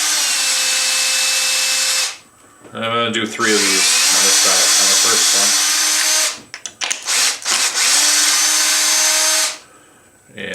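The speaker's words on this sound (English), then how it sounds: "I'll come back with my drill bit." Power drill pre-drilling holes in a wooden bucket, with two long, loud, steady whining bursts separated by a stretch of someone talking at close range.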